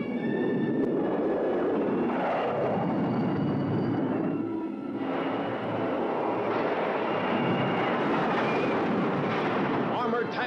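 Loud, dense jet aircraft roar in a 1950s monster film trailer, a continuous rumbling wash that barely dips midway, mixed with explosive, artillery-like effects and a narrator's voice over the top.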